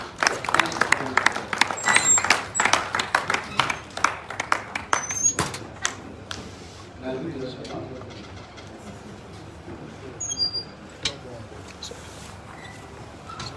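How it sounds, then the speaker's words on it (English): A crowd at a surprise 50th birthday celebration for Omoyele Sowore breaks into a round of applause, sharp scattered claps for about six seconds that then thin out to occasional taps while a speaker talks. "a round of applause for Comrade Vivian."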